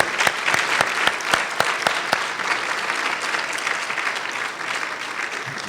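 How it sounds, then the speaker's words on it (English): Applause for honorees at a college gala dinner, opening with several sharp, distinct claps close by that quickly merge into a sustained, even round of clapping from the seated crowd. "Let's give them one more round of applause, and to all our honorees."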